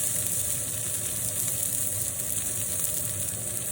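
Massive pork chops searing in a pan, a steady hissing sizzle that holds even and close throughout, without any speech.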